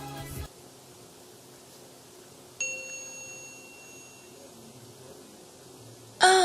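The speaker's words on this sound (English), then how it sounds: "Oh, there's the bell, meaning it's history time." A single bell dings once, a clear ringing tone that fades out over about two seconds against a faint, quiet background.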